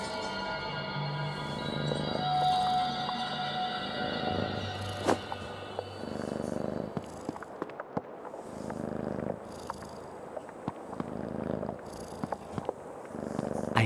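A cat purrs in the horror puzzle game Creepy Tale 2, a low steady rumble under game music and ambience, with a few short thunks and clicks near the end.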